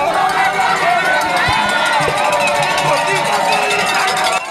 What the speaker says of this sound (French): Ovationné par une foule nombreuse et enthousiaste